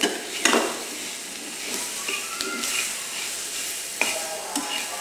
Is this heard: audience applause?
no